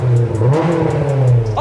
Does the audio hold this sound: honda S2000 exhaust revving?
yes